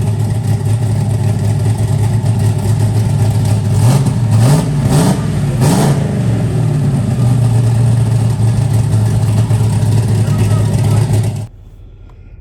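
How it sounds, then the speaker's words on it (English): A rebuilt convertible car's engine runs at a steady loud idle nearby, breaking into several quick throttle blips that rise and fall in pitch before settling back to idle, then cutting off abruptly near the end. "after we got the car fired up and running"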